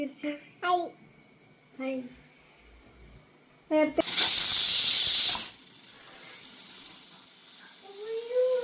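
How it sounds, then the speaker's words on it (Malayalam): A pressure cooker lets off a loud, sustained hiss of escaping steam lasting over a second, following brief bursts of a voice, with quieter talk resuming afterward. "രണ്ട് വിസിൽ കേട്ട് ഇനി നമുക്ക് ഫ്ലെയിം ഓഫ് ചെയ്യാം"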